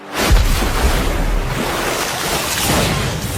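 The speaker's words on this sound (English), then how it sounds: "Water pillar." A water pillar magic spell erupts with a deep whooshing surge, like crashing surf and rushing wind, loud and sustained before slowly easing off.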